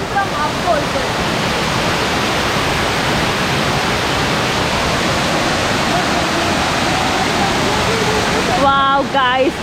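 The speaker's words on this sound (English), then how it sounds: "in the center this waterfall is rushing, creating that energy, this breaking the silence of the forest" Kothapally waterfall in a forest in Andhra, rushing water roaring as a loud, constant broadband wash close by, with a brief burst of chirpy voice-like sounds near the end.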